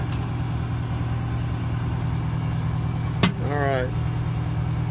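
An American LaFrance 1500 gallon per minute pumper fire engine idling with a steady low rumble throughout, while someone speaks briefly over it.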